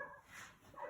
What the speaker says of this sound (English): Oh boy, dog's going crazy.